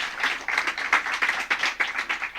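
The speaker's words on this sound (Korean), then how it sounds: "우리 감사의 박수를 하나님께 올려드리겠습니다" A church congregation claps in thanks at a Korean service, a steady rhythmic patter of many hands, fairly close and continuous, with no talk over it.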